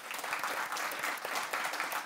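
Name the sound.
audience applause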